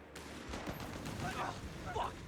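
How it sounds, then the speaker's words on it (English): An artillery barrage in the real-time strategy game Company of Heroes 3, heard as rumbling booms and rapid gunfire beneath a commentator's talk. "I'm hearing an artillery observer barrage"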